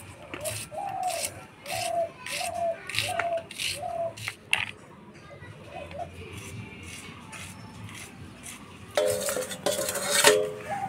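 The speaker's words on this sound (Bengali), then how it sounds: "কাঁচা লঙ্কা, টমেটো কাটে নিব" A knife chops green chilies and tomatoes on a board in a home kitchen, a steady run of crisp, close cuts followed by scattered clatter of utensils and a louder burst of rattling.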